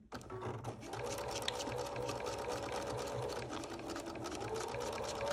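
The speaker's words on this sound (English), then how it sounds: "we're going to sew along the top and bottom edge to seal the edges of the mask" A sewing machine runs steadily and fairly quietly, stitching along the top and bottom edges of a two-layer fabric face mask, its rapid needle rhythm continuous after a short start.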